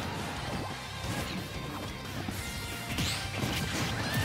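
A forward smash attack landing in Super Smash Bros. during a tournament match between Steve and Peach, heard as dense crashing impacts and whooshes over a loud, busy game and crowd mix.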